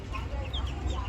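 Young chicks, about sixteen of them around seven to ten days old, cluck and peep softly nearby in a continuous jumble over a low background rumble, with a faint voice nearby.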